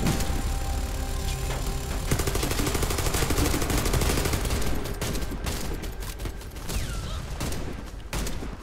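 A machine gun turret in a Pripyat PVE video game fires continuously in fast, rhythmic bursts, loud and dense throughout with a brief easing near the end.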